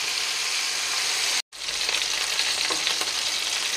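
Chicken leg pieces pan-frying over a high flame give a loud, steady sizzle that fills the whole stretch, broken by one brief dropout and then resuming with faint crackles and stirring, with no talk.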